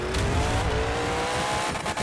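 A Grave Digger monster truck's engine revs hard and continuously in the Monster Jam video game during a racing event, loud and close with a rising, rasping drone.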